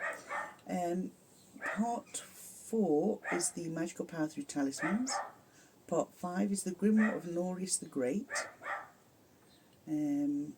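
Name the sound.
neighbours' dogs barking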